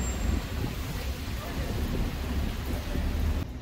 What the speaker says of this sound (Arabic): بلشت تمطر، تخبيت شوي من المطر.